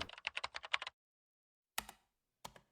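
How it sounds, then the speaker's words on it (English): Keyboard typing effect from the visual novel game Chaos;Child: a quick close burst of rapid key clicks, then silence and two separate heavier keystrokes with short tails. "I spoke loudly to keep up with the sound of fingers hitting keys"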